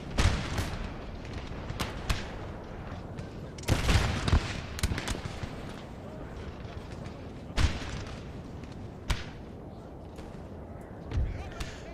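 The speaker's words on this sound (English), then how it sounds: "coming under massive fire there" Heavy musket volleys and artillery fire on a Napoleon: Total War battlefield, loud crackling fusillades and booming cannon shots that keep recurring over a rumbling background.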